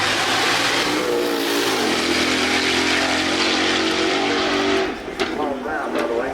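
A V8-powered car drives at the Goodwood Festival of Speed shootout, its engine a loud, sustained roar that holds a steady pitch. It eases back near the end, and a commentator talks over it throughout.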